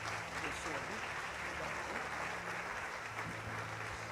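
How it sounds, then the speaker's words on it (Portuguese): Steady, continuous clapping from a church congregation fills the space, an even wash of applause without breaks. "Vamos receber pastor Emerson aplaudindo a Jesus bem forte."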